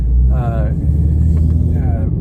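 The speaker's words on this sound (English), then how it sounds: "what does it actually sound like inside the car when you put headers on?" Inside a 2013 Roush Mustang fitted with Stage 3 catless headers, a deep engine rumble drones steadily from the cabin while someone talks over it.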